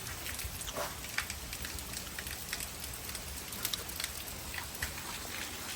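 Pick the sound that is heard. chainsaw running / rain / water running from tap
rain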